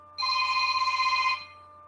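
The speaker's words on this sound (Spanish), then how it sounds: "había olvidado apagar el teléfono" Telephone rings once during a Spanish-language anatomy lecture, a loud, bright electronic ring with a fast warbling trill that lasts about a second before cutting off, heard alone in a quiet room.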